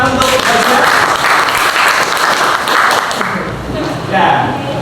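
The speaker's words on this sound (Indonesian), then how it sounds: "tepuk tangan untuk Bisa." An audience at a school emotions workshop applauds a student volunteer, a loud, dense burst of clapping lasting several seconds with voices mixed in.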